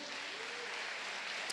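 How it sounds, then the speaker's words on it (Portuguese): A church congregation applauds during a Portuguese-language sermon, giving a faint, distant, even wash of clapping that stays steady and quiet throughout. "Você pode aplaudir a Jesus neste lugar?"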